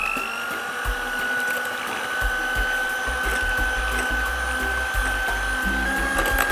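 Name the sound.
electric whisk beating eggs and sugar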